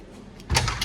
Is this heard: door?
yes